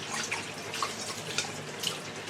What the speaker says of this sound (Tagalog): Nag-uugas ako. Grabe ang hina pa rin ng tubig.